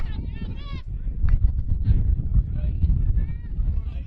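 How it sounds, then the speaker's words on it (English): Strong wind gusts buffet the microphone at an outdoor high school regional baseball game, producing a loud, continuous low rumble with a few faint tonal chirps early on. "Wind really gusting at the moment."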